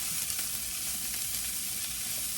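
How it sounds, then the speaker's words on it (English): Vegetables sauté in a pan with a steady, loud, dense sizzle that holds even and unbroken throughout, with no voices. "So I'm just going to let this cook and saute."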